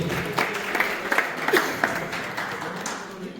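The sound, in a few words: audience applause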